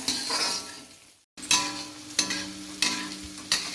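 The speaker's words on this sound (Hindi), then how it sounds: "तो ये देखिए दोस्तों, हमने आलू और प्याज को थोड़ा भून लिए हैं" Potatoes and onions sizzle steadily in a pan while a spatula stirs and scrapes in a few sharp strokes, with one short pause near the start.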